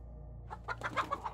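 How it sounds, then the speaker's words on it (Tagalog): Backyard chickens break into a quick run of clucks, several short rhythmic squawks rising out of a low steady hum, moderately close and with no talk over them. "biglang nag-ingay ang mga manok sa likod bahay"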